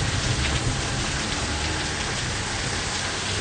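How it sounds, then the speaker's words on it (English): Heavy rain from an intense rainstorm pours down in a dense, unbroken hiss of drops hitting surfaces, loud and steady throughout. "is it ever raining hard?"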